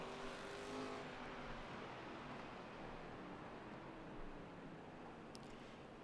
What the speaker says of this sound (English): Matt Mitchell is going to be going through the middle of that turn